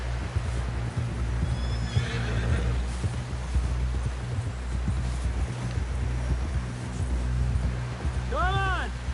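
A horse in the Red Dead Redemption 2 video game whinnies near the end over a steady low rumble of game ambience, wind and hoof clip-clop, with voices talking earlier.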